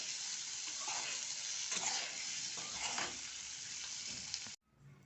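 Shingole, a Marathi snack made with chigal greens and coriander, fry in a little hot oil with a steady faint sizzle and soft stirring scrapes, cutting off abruptly near the end.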